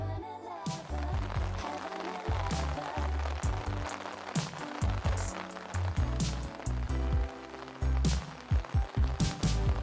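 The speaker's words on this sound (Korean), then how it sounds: "갑자기 비가 오기 시작했어요. 새벽부터." Rain falls at a summer campsite, a dense, loud patter of drops striking surfaces nearby, with irregular heavier splats and knocks throughout.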